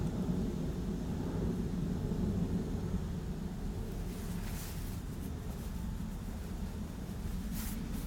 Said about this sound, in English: now that jet is quite low.